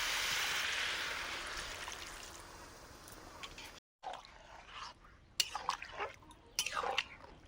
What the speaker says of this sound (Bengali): জল দিয়ে দিলাম খিচুড়িতে